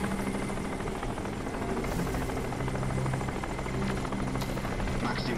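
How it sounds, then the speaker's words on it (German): Helicopter hovering overhead in the video game Crysis, a continuous loud rotor chop and engine drone steady throughout, with a few faint clicks and rustles beneath. "Wir haben diesen scheiß Helikopter über uns."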